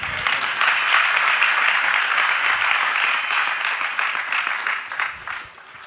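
A large audience at a religious discourse applauds in a broad, continuous wash of clapping that holds steady, then thins and fades toward the end.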